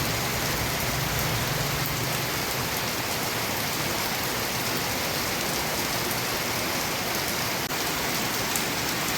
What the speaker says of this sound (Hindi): काफ़ी तेज़ से बारिश भी होने लगी थी